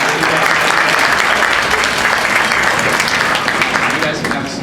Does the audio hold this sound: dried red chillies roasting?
no